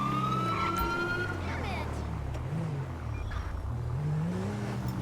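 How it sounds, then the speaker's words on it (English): Police car siren in the LSPDFR video game, a New York State vehicle, wailing steadily throughout with a rising and falling tone over engine rumble, while a voice talks over it. "I still have a siren on New York State"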